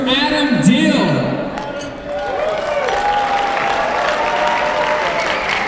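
A crowd at a waiter introduction event claps and cheers loudly, the applause sustained for several seconds, with a host's voice calling out over it at the start.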